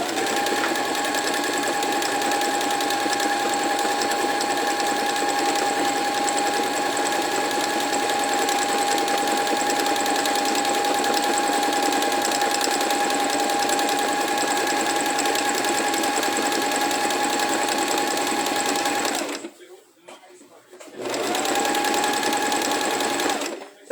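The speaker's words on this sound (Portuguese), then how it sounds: "Então aqui a gente tá costurando uma almofada, descanso de pescoço" A sewing machine stitching a neck-rest cushion runs loud and steady with a constant whirring drone, pauses briefly for about a second, then starts up again.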